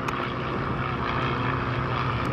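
A Navion propeller airplane departing at the Sun 'n Fun 2018 fly-in, its engine giving a steady, full drone that holds level across the short stretch with no voices.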